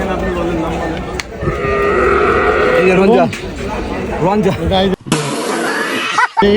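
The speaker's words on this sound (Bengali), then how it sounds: "তবে গরুটা কিন্তু মাসাল্লাহ অনেক কিউট" Cattle at a Qurbani livestock market low and bellow amid crowd noise and close talking, with other animal calls mixed into the busy outdoor bustle.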